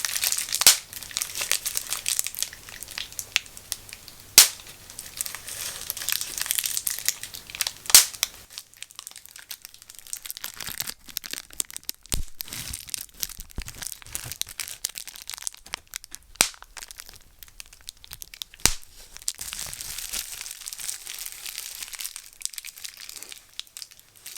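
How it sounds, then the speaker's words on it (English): Crinkly plastic packaging that pops, crumpled and crinkled by hand with a steady run of sharp crackles and small pops, close and fairly loud, with no voice over it. "I like the crinkly plastic that this came in. It's one of those popping ones."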